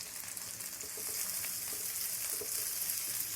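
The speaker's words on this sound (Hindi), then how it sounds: "2 से 3 मिनट हम इसको भी फ्राई करेंगे" Three chopped green onions fry in a pan with garlic for chicken pasta. A soft, steady sizzle and crackle is heard from close by, growing slightly fuller partway through, with faint utensil taps.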